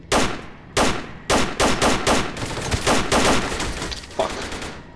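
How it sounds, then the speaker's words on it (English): Gunfire in STALKER Call of Chernobyl, a series of sharp, loud shots and short bursts at uneven intervals, close and echoing. "Someone is shooting at us."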